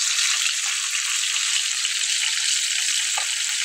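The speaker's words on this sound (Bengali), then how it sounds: "মাছগুলোকে খুব সুন্দর করে ফ্রাই করে নেব।" Tilapia fish fry in oil in a frying pan, a loud, constant hiss of sizzling oil filling the whole stretch with no voices.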